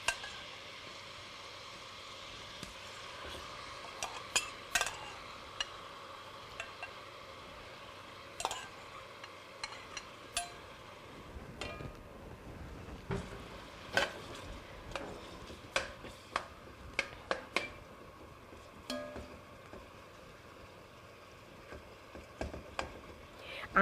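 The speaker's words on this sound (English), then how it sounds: "we want to cook the water out of our chicken" Chicken thigh meat frying in butter in a pan, a soft steady sizzle under scattered sharp clinks and scrapes of a utensil stirring, close and fairly quiet.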